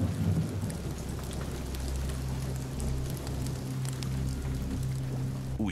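Heavy steady rain pours down on the Bahamas while low rumbling thunder rolls continuously underneath, loud and close.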